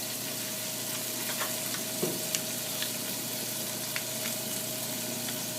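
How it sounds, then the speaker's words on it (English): Beef stock hits a hot pan and sizzles steadily in a dense, continuous hiss, with a few small pops and stirring clicks and no talking. "We're going to add a little bit of beef stock."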